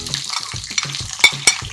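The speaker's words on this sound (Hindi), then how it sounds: "अब मैं इसमें ऐड करने जा रही हूँ प्याज" Sliced onions stirred into a frying pan of brain masala with fenugreek seeds, a steady close sizzle under rhythmic scraping strokes of a spoon against the pan.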